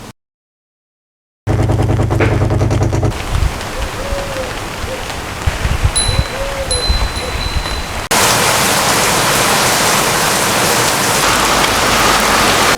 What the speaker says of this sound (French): comme hier matin, il pleut